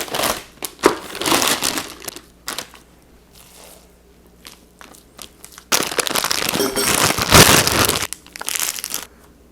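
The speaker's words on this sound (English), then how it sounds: "And then into a bag. You can use a Ziploc bag if you like, or if you have a piping bag like this." A plastic piping bag being filled with Filipino lumpia meat filling: loud, close crinkling and crushing bursts in irregular clusters, with quieter gaps between handling.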